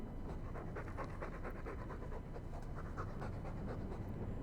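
A dog in the video game Dragon Age II pants loudly and close up, with quick, even, rhythmic breaths continuing throughout.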